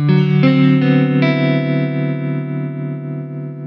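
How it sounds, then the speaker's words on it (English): Electric guitar played through a tremolo effect pedal: a few sustained chords struck in quick succession, each ringing out with a steady pulsing wobble in volume, loud and close with no one speaking. "This is tremolo."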